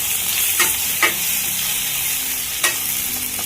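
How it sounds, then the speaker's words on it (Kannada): Chicken pepper gravy masala frying in a pan, a loud steady sizzle close by, broken by a few sharp scrapes of a spoon stirring, with no talking. "ಚೆನ್ನಾಗಿ ಮಿಕ್ಸ್ ಮಾಡಿ ನೋಡಿ, ಚೆನ್ನಾಗಿ ಫ್ರೈ ಆಗಿದೆ"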